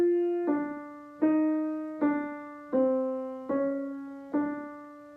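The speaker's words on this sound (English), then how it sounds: "the counter subject, is based on the chromatic portion of Diabelli's theme," Piano plays the chromatic counter subject from the fugue of Beethoven's Diabelli Variations, six slow detached notes stepping downward by semitones, each struck clearly and left to decay alone, quiet and close.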